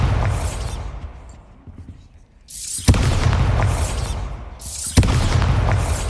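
Bombarda blast spell cast in the Hogwarts Legacy video game on Xbox Series X: two sharp, loud booming bursts in sequence, each followed by a dense rumbling roar, after a quieter stretch of game ambience.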